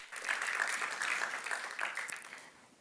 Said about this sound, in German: Bitte grossen Applaus.